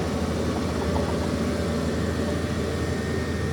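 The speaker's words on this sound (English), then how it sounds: "He's driving over his cultivated stuff." A steady, loud engine drones without a break as a vehicle drives over a cultivated field, its low rumble constant and unchanging.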